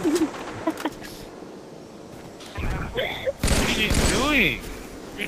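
Gunfire in the video game Halo 3 comes in short bursts and a heavier volley toward the end, mixed with game effects while players talk over it.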